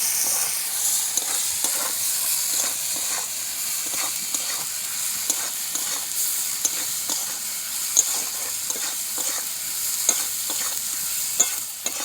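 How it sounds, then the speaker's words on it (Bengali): Chili powder, turmeric and salt sautéing in a pan for a mango snakehead fish curry, with a steady sizzle under repeated scraping stirs of a spatula at an uneven rhythm, close by. "সব মশলাগুলোকে এবার ভালো করে কষিয়ে নেব"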